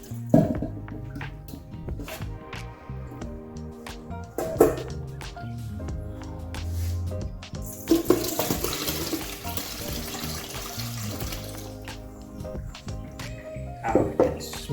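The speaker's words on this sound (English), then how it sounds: "just going to drain off the brine for us" Brine draining out of a container of fermented chilies, a steady pouring and splashing stream of liquid with a few louder sloshes, close by and in the foreground.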